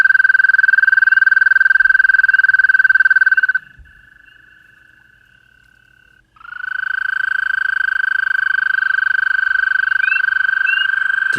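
A high, steady trilling chorus of spring peeper frogs rings out, breaks off into a quieter stretch for a few seconds, then resumes at full strength, with a few brief rising chirps near the end.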